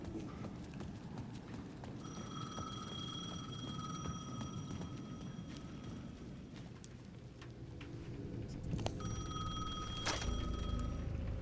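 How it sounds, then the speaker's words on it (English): Payphone ringing in the video game Alan Wake 2, a bright repeating electronic ring in two bursts over a dense rain-like ambient bed with low rumbling and scattered clatter. "The payphone at the edge of the plaza was ringing again."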